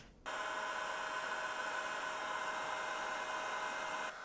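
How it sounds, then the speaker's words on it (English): A heat gun blows steadily on solder during a headlight upgrade on an Inmotion RS Lite electric unicycle, a continuous close hissing airflow that switches on abruptly and holds level for about four seconds before cutting off, with no talking. "the next step is to heat gun this baby"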